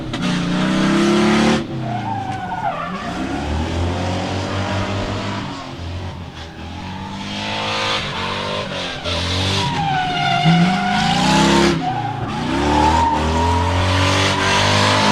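Drift cars at Meremere Drift Park during MSC Challenge NZ qualifying, engines revving hard and tires squealing in long sweeping skids, loud and continuous with rising and falling pitch throughout.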